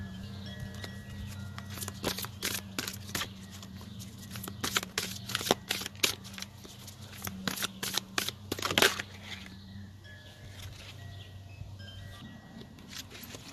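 Tarot cards are shuffled and drawn by hand, making a long run of quick, soft riffling snaps and flicks up close. The sound is fairly faint and busiest in the middle, then thins out toward the end.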